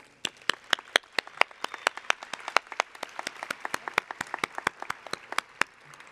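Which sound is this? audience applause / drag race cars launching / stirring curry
audience applause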